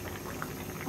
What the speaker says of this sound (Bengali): আমরা এখন ভেজে রাখা মাছগুলো দিয়ে দিব